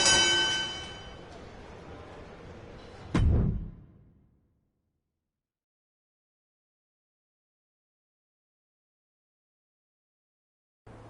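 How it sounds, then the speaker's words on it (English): In a WWE 2K25 wrestling video game, a single bell clang rings out right after the pinfall, cutting through busy game noise and decaying quickly before the clip falls silent. "That's three. Bell."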